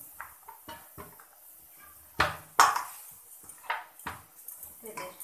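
Lid set over kneaded kulcha dough in a kitchen, a few sharp metallic clanks and knocks of cookware, close and distinct against quiet background.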